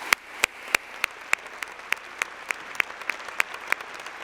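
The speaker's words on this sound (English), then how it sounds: "So can we please give them all a round of applause?" Audience at an ATHENA Award event applauding the finalists, a sparse, evenly spaced run of distinct claps at moderate volume, heard alone.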